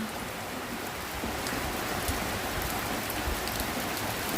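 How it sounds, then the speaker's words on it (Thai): Steady outdoor rain falls through the whole stretch, a dense continuous hiss of drops with no voices over it. "หอดบานฝนตกพอดีหอนหน้าจ้า"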